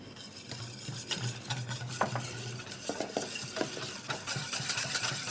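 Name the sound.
stirring flour and cocoa mixture with olive oil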